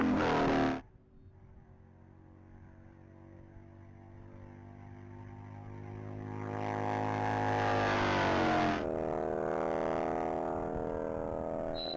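A black 2001 Harley-Davidson Sportster runs a top-speed mile pass at a racing event, its engine droning steadily with rising harmonics as it passes and then holds a loud sustained roar.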